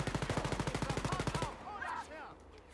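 Automatic gunfire in the shooter game Wolfenstein: Youngblood, a rapid, evenly spaced burst of about fifteen loud shots lasting a second and a half, then falling quiet as a brief voice sounds.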